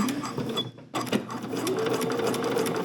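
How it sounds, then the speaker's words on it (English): A sewing machine stitches an overnight bag near the hardware, a close, rapid mechanical whirr that pauses briefly before running on steadily. "come down to the bottom and get it stitched in and then sew up towards the hardware"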